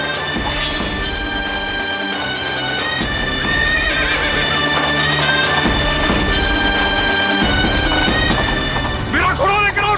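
A horse neighs loudly in a dramatic period battle scene set in the era of Shivaji, with a rising whinny over dense music and commotion, followed by hoofbeats and crashing sounds.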